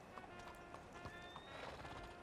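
Horse hooves clip-clopping in the western roleplay game WildRP as a horse is led around, soft and fairly distant, with faint ambient game sound and some voice underneath.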